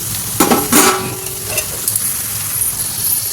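Capsicum tipped into a pan of cooking carrots for a capsicum, carrot and tomato curry, giving a couple of sharp sizzling bursts and scraping stirs, then a low steady frying hiss.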